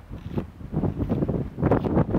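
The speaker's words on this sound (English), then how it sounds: "Man, we're going to have some wind." Gusts of outdoor wind buffet the microphone in uneven low rumbling bursts, fairly loud and close, with no speech.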